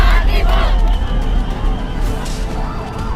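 An angry protest crowd roars and shouts continuously in the streets of Kathmandu, Nepal, a dense, loud wall of yelling voices with rising cries and a siren-like wail in the mix.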